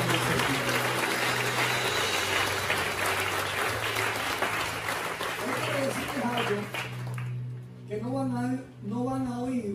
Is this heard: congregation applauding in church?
yes